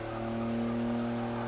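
A 1954 Jaguar XK120 SE engine in Forza Motorsport 6 drones loudly and steadily, a close, sustained note with a strong hum, holding even throughout with no voices.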